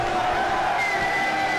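An indoor wrestling crowd in Union City, New Jersey cheers and roars steadily, a dense wash of voices with no breaks across the short moment.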